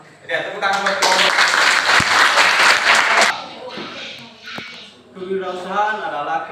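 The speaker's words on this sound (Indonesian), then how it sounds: "Ya, tepuk tangan buat kelompok." Classroom of students clapping for a presenting group, a dense burst of applause lasting a couple of seconds, followed by a teacher speaking.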